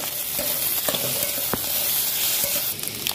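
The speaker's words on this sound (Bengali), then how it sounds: "কিছুটা কাজু বাদাম দিয়ে দেবো। ভালো করে ভেজে নেবো।" Spices and cashews frying in a pan, a steady close sizzle with scattered stirring clinks and scrapes throughout.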